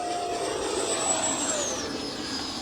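A Red Arrows electric ducted fan model jet flies overhead, its whining turbine-like pitch sliding downward as it passes, steady and fairly loud with no speech.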